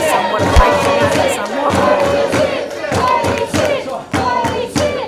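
A wrestling crowd at an Australian pro wrestling no-DQ main event roars and cheers in reaction to a move, a loud, sustained mass of voices with shouts rising and falling, and a thud near the start.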